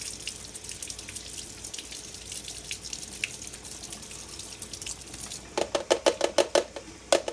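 Tomato seeds being rinsed under a running kitchen tap, with a steady stream of water hissing into a container at close range, then a quick run of sharp splashing bursts near the end as the seeds are swished around.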